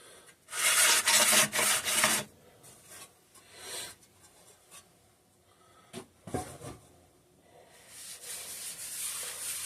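Excess grease being wiped up with a well-used rag while servicing an antique McCulloch generator recovered from a flooded basement: a loud burst of rubbing and scrubbing, then quieter intermittent wipes and a few sharp handling knocks, with no talking.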